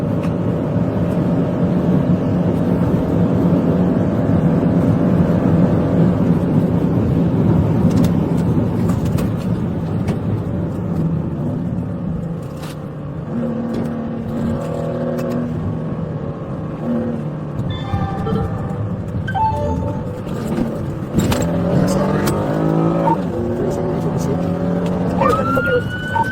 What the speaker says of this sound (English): The Kia accelerated, weaving aggressively through traffic and making sudden lane changes.